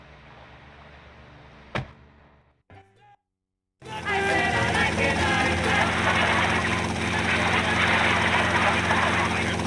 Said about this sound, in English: Take my copter.